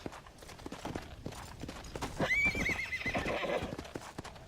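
A horse in Red Dead Redemption: Undead Nightmare clip-clops along at a steady rhythm of close hoofbeats, then gives a clear, drawn-out neigh partway through, with faint rustling underneath.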